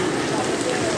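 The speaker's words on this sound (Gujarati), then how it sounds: "એકદમ જોરદાર ફાસ્ટ વરસાદ પડે" Heavy, fast rain pouring down on a roadside near a village, a dense, loud, continuous hiss close by.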